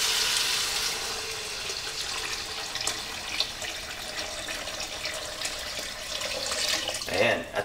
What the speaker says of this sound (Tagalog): Dahan-dahan lang natin ibubuhos dito yung tubig.